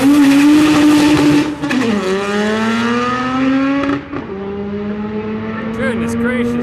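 A K20-engined VW Bug race car revs hard with a loud, close, buzzing engine note that climbs, drops sharply, then climbs again, while people talk over it.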